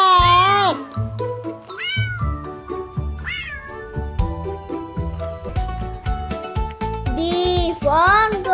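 A cat meows repeatedly and loudly, its rising and falling cries standing out over a bouncy musical backing with steady beats.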